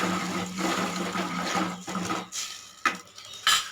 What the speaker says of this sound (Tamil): சேர்த்துட்டு நல்லா கலந்து விட்டுறலாங்க.